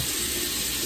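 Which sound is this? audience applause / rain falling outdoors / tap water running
tap water running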